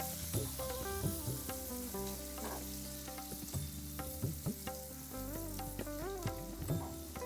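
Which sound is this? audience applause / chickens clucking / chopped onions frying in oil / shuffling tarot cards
chopped onions frying in oil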